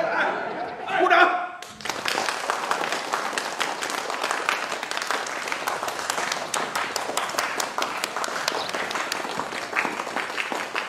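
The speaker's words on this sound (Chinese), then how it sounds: "鼓掌！" Meeting hall crowd bursting into sustained applause after a call to order, many hands clapping densely for about nine seconds, with chatter and laughter just before it begins.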